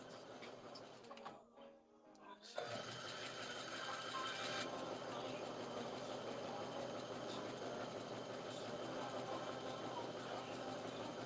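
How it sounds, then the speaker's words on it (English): Sewing machine stitching patchwork fabric strips together, right sides facing, for a sweatshirt; a brief pause near the start, then a steady, continuous mechanical whir and clatter that runs on without talk. "I'm just sewing it together in strips"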